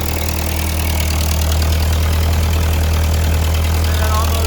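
A Ford 8N tractor engine idles steadily up close, a loud, continuous low chugging throb with no breaks and no voices.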